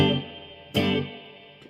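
Guitar amp reverb rings out after two strummed, left-hand-muted G barre chords, each a bright distorted hit that decays into a smeared tail, followed by a faint click near the end.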